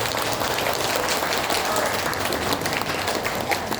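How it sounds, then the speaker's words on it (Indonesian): Parents at a high school graduation ceremony clap in a dense, sustained round of applause that fills the hall with steady, loud clatter from start to finish. "Bapak dan Ibu berikan tepuk tangan buat mereka."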